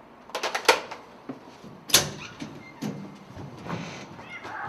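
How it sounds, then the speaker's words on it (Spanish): A house cat meows several times at close range indoors, short, uneven cries mixed with a few soft knocks and handling noises in a quiet room. "Ha bajado el gato a recibirme abajo."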